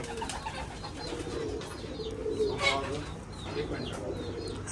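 Soft, repeated pigeon coos in a low throaty rhythm, with a faint chirp and light background noise; no clear speech.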